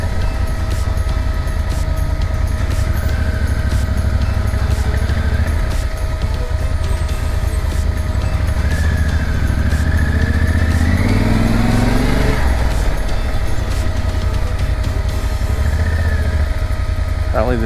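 A Nissan car's engine strains along a road in Mexico, a steady droning hum with rising and falling pitch, heard close alongside continuous motorcycle engine and wind noise.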